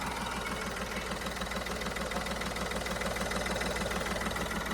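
A 2013 Chevrolet Beat diesel car engine idles with a steady, even, close rumble and faint rhythmic knocking throughout. No one speaks.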